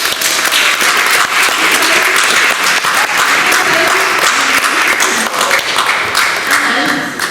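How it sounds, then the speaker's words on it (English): A school prizegiving audience applauds steadily and loudly for several seconds, with dense, continuous clapping from a large crowd filling the room. "I would like you to give a big round of applause to all the many scientists."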